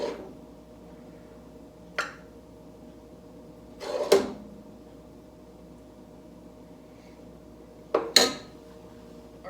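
A ladle knocks against a pot of Thai-inspired pumpkin soup, making a few sharp metallic clinks spaced a couple of seconds apart, with a quiet background between them.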